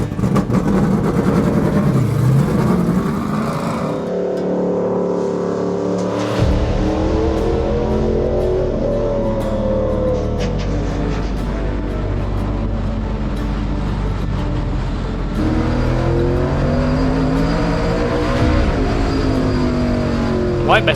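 A race car is heard running laps in a testing session, its engine droning steadily and rising and falling in pitch as it accelerates and passes, loud and continuous throughout.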